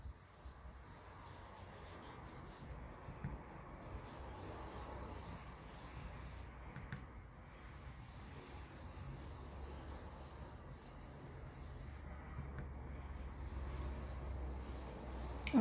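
Stencil brushes scrub over a stencil in a quiet, steady rubbing hiss, broken by a few short pauses.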